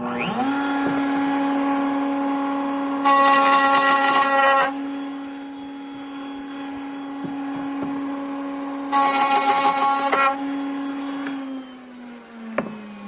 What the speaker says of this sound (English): we're just going to cut that little piece out of here